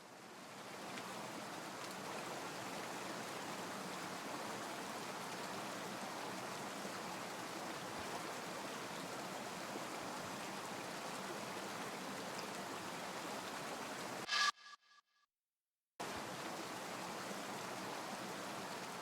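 Water draining from a room in a pet shop puzzle video game: a steady, soft rushing flow like a stream that runs on evenly, then cuts out abruptly near the end before resuming briefly.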